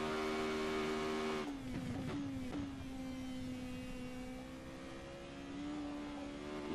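Simulated race car engine in a sim racing game, a sustained high-pitched drone holding near the top of the rev range, dipping briefly as gears shift and then climbing steadily again, close and continuous with no talk.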